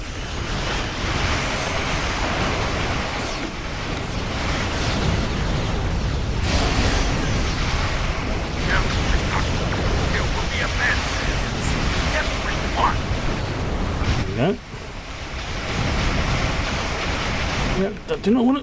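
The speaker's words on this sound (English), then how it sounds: "do not fly into warp core explosions" A loud, sustained roaring blast of a warp core explosion in the video game Star Trek Online, rumbling on, with scattered crackles and a sharper burst near the end.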